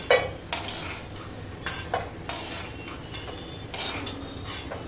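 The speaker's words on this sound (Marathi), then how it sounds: "आता आपण काजूला भाजून घेऊ" Cashews roasting in a pan, then being removed, with several clattering scrapes and knocks of a utensil against the pan over a faint sizzle, close by and without speech.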